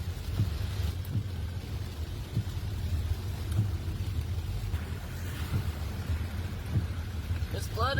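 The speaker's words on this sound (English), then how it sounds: "fierce hailstorm blankets the Rhone runway in a thick layer of white ice" A fierce hailstorm pelts an airport runway, covering it in thick white ice. Steady hard rain-like hiss mixes with scattered low thuds, and low voices come and go under the din.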